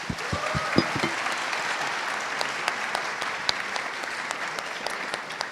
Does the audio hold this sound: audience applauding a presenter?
yes